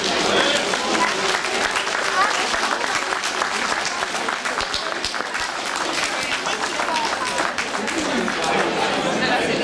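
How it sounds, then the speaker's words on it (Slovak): Loud, continuous applause from an outdoor crowd cheering all competitors at a sausage festival, dense clapping with some chatter mixed underneath. "Veľký potlesk pre všetkých"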